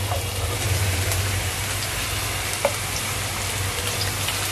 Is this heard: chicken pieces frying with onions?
yes